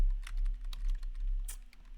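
Someone types a search on a computer keyboard, a quick uneven run of light key clicks with one sharper tap partway through.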